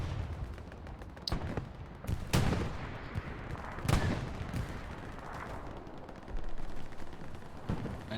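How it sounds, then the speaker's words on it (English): An anti-tank gun firing in a video game tank battle: several heavy, sharp booms at irregular intervals over a constant rumbling battlefield background, with no talk. "Getting shot in the front by Mevers on that AT gun."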